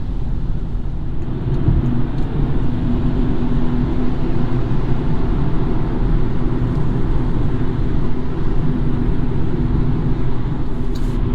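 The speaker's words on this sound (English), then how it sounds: "cruising on the freeway, wind noise is not terrible, but it is somewhat apparent" Inside a 2020 BMW 228i Gran Coupe cruising at freeway speed, a constant, fairly loud cabin roar of wind and road noise runs unchanged throughout, with no talking.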